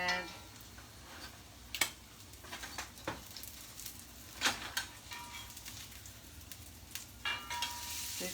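Salmon patties sizzle as they brown in a pan, a steady low crackle broken by sharp spatula taps and scrapes at irregular moments, heard up close.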